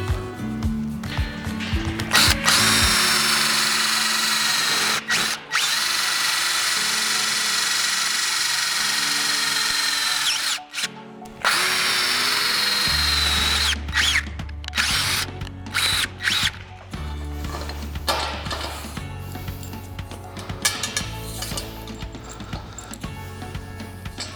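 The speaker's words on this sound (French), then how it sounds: "Des vis auto-perçantes vous sont fournies pour pouvoir fixer le caillebotis sur le châssis." A power drill drives self-drilling screws to fix grating onto the metal chassis of a steel watchtower, a loud whining motor in long bursts with brief stops, then shorter revving pulses and metallic clicks toward the end.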